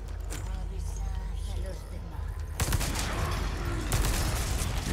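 Gunfire in the Resident Evil 4 Remake video game, a headshot: a sharp burst of shots breaks out midway and repeats again near the end, loud against a continuous game backdrop with voices present.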